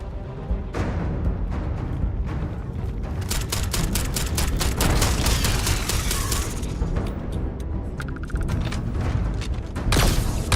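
Rapid gunfire in the video game Starfield, dense bursts of sharp shots and booms played loud and continuous, with brief lulls and overlapping game effects, close and alone.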